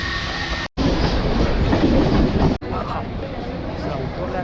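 Mumbai local train running toward Virar, loud close rattling clickety-clack of wheels and carriage, interrupted by two short gaps, with a voice briefly audible over the rumble.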